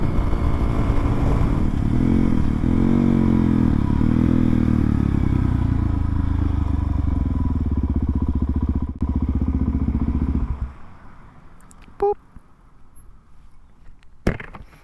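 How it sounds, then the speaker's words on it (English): Supermoto motorcycle rolls along with its clutch pulled in, at first under a loud, steady wind and road roar. The noise drops off sharply near the end, leaving a few clunks and rattles. "At this point, I can just pull in the clutch and coast."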